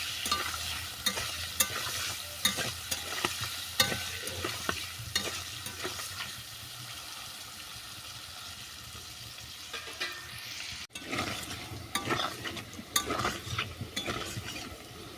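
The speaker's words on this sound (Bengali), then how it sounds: "ফুলকপিটাকেও বাদামি করে ভেজে নেবো" Cauliflower pieces frying in hot oil with ground turmeric, a steady sizzle broken by repeated stirring scrapes with a short quieter stretch mid-way, for a Bengali cauliflower and rohu fish curry.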